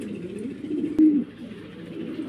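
Grizzle pigeons from a breeding pair coo softly and steadily at close range, with one louder, fuller coo standing out midway through.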